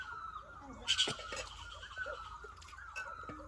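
Low dove calls drift through a rural village, faint and distant beneath a steady outdoor hum, with a brief sharper bird chirp or cluck rising near the start.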